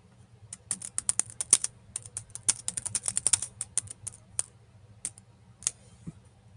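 Rapid, uneven bursts of computer keyboard typing, crisp close clicks clustered in quick runs with brief pauses, over a faint low hum and no speech.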